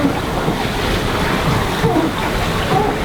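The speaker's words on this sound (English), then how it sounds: "we are in our passage into the Similu Island and we are sailing very nicely" Sailboat on an overnight ocean passage, a loud continuous rush of wind and breaking waves against the hull with heavy microphone buffeting, no clear speech.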